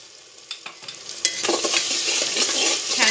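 Roasted masala added to hot oil for a goat head and trotters curry, with a few spoon taps and scrapes, then a sizzle that swells and holds loud as it is stirred; close by, no talk.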